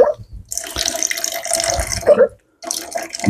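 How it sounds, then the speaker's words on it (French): Water squeezed by hand from a filter bottle into a container, a steady splashing stream close by that pauses briefly before running again. "c'est une gourde où il faut appuyer dessus hein, pour que ça coule"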